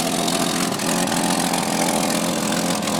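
A 1966 Ford Mustang engine idles after a cold start with a bad exhaust leak, a dense, steady rumbling roar that stays loud and close throughout with no talking.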